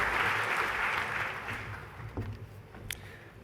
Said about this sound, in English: Can we please give our finalists one last round of applause?